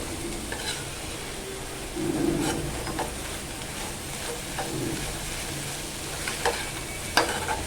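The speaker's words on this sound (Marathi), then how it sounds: "आता आपण ना त्यात ओलं खोबरं घालून घेऊया आणि व्यवस्थित असे एकदा मिक्स करून घेऊया" Grated fresh coconut being stirred into a pan of cooked monsoon wild greens (phodshi), giving soft scraping and light sizzling with a few sharper utensil clicks, close and steady throughout.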